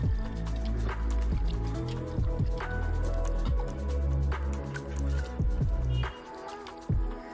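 Cut squid being washed in water by hand, with repeated wet squishes, drips and sloshing close up and continuous throughout.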